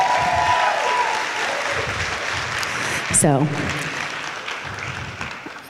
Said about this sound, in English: One more round of applause for her.